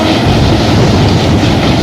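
A locomotive hauls a train up the Kasara Ghat, a loud, close, continuous rumble with dense mechanical roar and no clear pauses.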